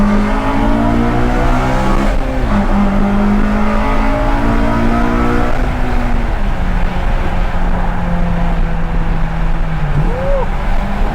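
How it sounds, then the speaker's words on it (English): A modified 2011 Honda CR-Z with an upgraded exhaust drones loudly up close, its engine note climbing through gear changes and settling into steady cruising, with faint voices underneath. "I'm really happy with the exhaust,"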